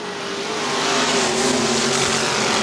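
IMCA modified race cars at Ionia Raceway Park in 2002 roar together in a steady, loud, dense engine drone that builds slightly as the field thunders around the dirt track.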